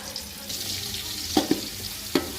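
Onions frying in oil in a pan for pulao, a steady close sizzle with a few sharp clinks of a spoon or utensil late on, no talking.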